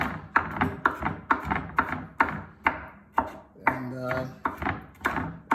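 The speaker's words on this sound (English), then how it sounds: "we got the garlic, one big garlic, chopping that up" A knife chops garlic rhythmically on a cutting board, quick even thuds close by, with a brief pause partway through and a voice murmuring once.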